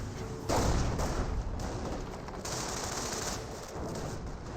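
Rifle fire from German grenadiers in the strategy game Company of Heroes, a steady crackle of massed shots with louder bursts under a constant battle din, no voices.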